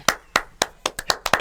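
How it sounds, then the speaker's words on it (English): Several sharp hand claps in a loose, uneven rhythm, about seven distinct smacks spaced roughly a quarter second apart, close and fairly clear with no talking over them. "Stand up. Stand up. Clap."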